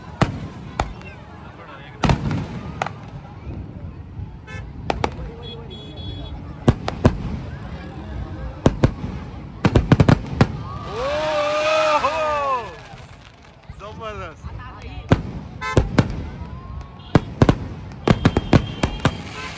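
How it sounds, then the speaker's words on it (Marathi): Fireworks burst again and again in sharp, scattered bangs during a Ganesh immersion procession in Latur, with a run of whistling rockets in the middle and faint crowd noise underneath. "इकडे फटाके उडतात"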